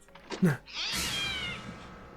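A cat in the horror film SleepWalkers gives a sudden shrill meow-screech in a jump scare, following a couple of short thumps. The cry is loud and drawn out, about a second long.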